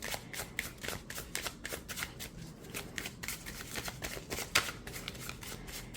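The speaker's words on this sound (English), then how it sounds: "let me just shuffle overhand" Oracle cards are shuffled overhand in a quiet room, a rapid series of crisp riffling slaps and flicks repeating steadily and close to the microphone, with no talking.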